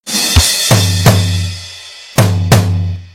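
Drum kit with kick and left and right toms struck together, a few loud, close, ringing hits spaced irregularly, each tom decaying with a low resonant tail, no talking.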